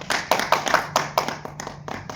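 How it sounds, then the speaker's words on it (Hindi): A small crowd at a Republic Day speech claps, with distinct, uneven claps from a few hands in a loose, irregular rhythm that thins out toward the end. "आप लोग जोरदार ताली बजाएं"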